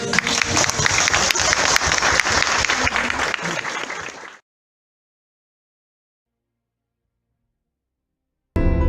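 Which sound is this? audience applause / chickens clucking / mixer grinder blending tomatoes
audience applause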